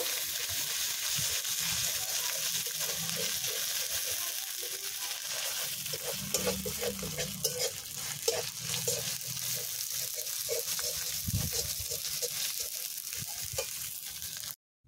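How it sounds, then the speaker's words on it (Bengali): Ginger paste stirred into mutton curry frying in a pan, a steady close sizzle with soft scraping and sloshing of the spoon running throughout, no voices. "আদা বাটাটা দিয়ে একটু নাড়িয়ে নেব।"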